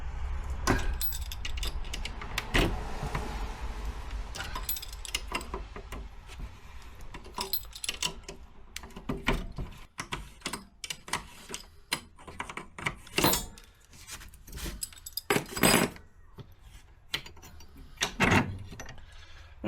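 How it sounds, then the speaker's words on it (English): A special tool turns a stiff castellated nut on a shock absorber clamped in a vise, giving irregular metallic clicks, clanks and scrapes at close range, with no talk. "we've got our special tool for removing castellated nuts"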